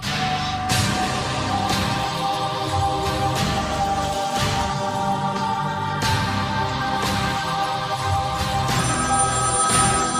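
A telephone rings repeatedly in regular, evenly spaced bursts, moderately loud and continuous throughout, with no voices.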